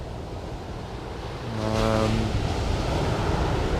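Surf breaks at Amberley Beach, a deep-water surf beach near Christchurch, on a foggy early morning: a steady wash that swells into a louder surge midway and holds there, with a faint tonal hum riding over it briefly.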